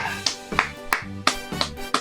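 A few sharp hand claps land at an even rhythm, about six crisp, close slaps spaced roughly a third of a second apart, with no talk over them.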